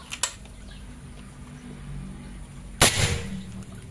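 A sharp shot from a folding PCP air rifle snaps once, followed by a brief hiss and a soft tail. There are small clicks just before it against a quiet background.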